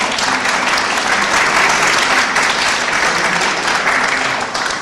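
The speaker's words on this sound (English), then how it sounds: "how about a little clapping?" An audience at a public talk on mental health and the criminal courts claps together in a dense, sustained round of applause that stays loud and even before fading slightly at the end.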